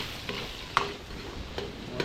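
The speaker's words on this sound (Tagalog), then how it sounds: "So bawang sibuyas, paglagay tayo." Garlic and onion fry in a pan, giving a steady close sizzle with a few scraping stirs of a utensil against the pan, and no voices.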